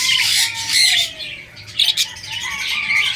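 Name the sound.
pet parakeets squawking while coming to eat vegetables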